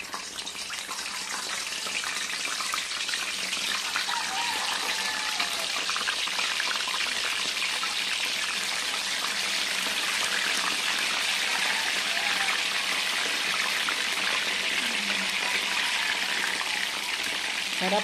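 Sliced bananas deep-fry in hot cooking oil, giving a steady, dense sizzle and crackle that holds evenly from start to finish, close and fairly loud, with no talking.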